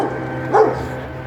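A dog lets out a single short bark midway through, fairly close, over a steady low background hum.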